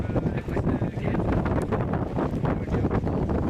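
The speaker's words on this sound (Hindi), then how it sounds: "गुलमर्ग के अफरवट और कंगडोरी में बर्फबारी के साथ साथ धुंध और तेज हवाएं चल रही हैं।" Strong wind blows during snowfall and fog at Kangdori near Gulmarg, Kashmir, a loud continuous roar buffeting the microphone without pause.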